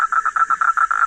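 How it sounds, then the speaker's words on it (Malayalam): A frog in a green pond croaks in a quick, regular train of about nine sharp pulses, close and clear with nothing else around it. "നമ്മുടെ തവളക്കുട്ടൻ കരയുന്നത്"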